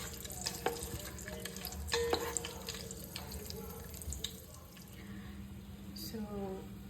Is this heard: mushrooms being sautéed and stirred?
yes